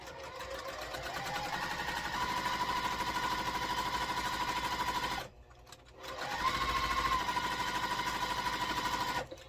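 A sewing machine stitches small quilt fabric pieces with a fast, even mechanical whir, running in two long bursts with a short pause between, close and steady, with no talking.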